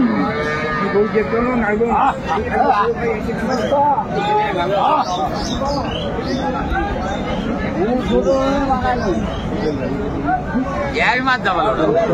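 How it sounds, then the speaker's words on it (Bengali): Several cows and calves moo repeatedly, some close and loud, over a busy crowd of people talking at Aftabganj open livestock market. "গাভী বাছুর আমরা দেখছিলাম, বেশ সুন্দর"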